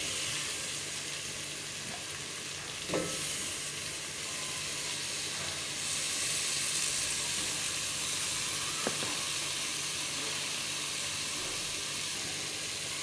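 Potatoes added to an aubergine curry frying in a pan, giving a steady loud sizzle and hiss throughout, with a couple of brief clinks from stirring utensils.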